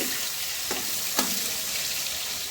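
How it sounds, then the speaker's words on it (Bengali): Fish frying in a pan with tempered nigella seeds, a steady close hiss of oil with a couple of brief sharper crackles, no voices. "কালো জিরে ফোড়ন করে মাছগুলো করে নিচ্ছি"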